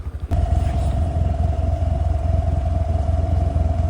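Motorcycle engine running close by, a loud steady idle with a rapid pulsing throb and a constant whine after a brief rumble at the start.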